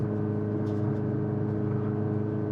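A 1990 Rover Mini being driven, its small engine giving a steady, continuous hum and road drone at moderate level throughout, no talking.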